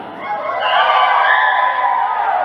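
A group of children at a library storytelling session crow together in imitation of a rooster, a loud, drawn-out chorus of voices that swells and holds.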